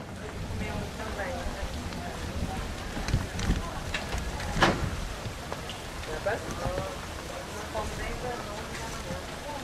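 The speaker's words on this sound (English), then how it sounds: "It was not easy because the tropical rain and there was water coming from everywhere." Steady tropical rain pours down with dense patter and splashing water running everywhere, continuous and close throughout.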